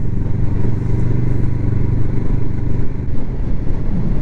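A motorcycle engine heard from inside a rider's helmet on a ride, a steady, loud low rumble mixed with wind noise that runs continuously with no speech.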